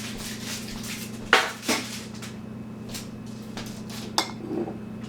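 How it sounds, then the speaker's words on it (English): Glass canning jars are set onto a tray and slid into an oven, producing a few close clinks and knocks of glass and metal over a steady low hum, with no speech. "I take my other jars and put those into the oven"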